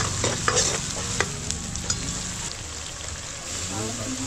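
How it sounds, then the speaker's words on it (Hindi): Onions frying in a pan are stirred, giving a steady close sizzle broken by irregular scraping clicks of the spoon against the pan. "प्याज और इसको मिक्स करेंगे।"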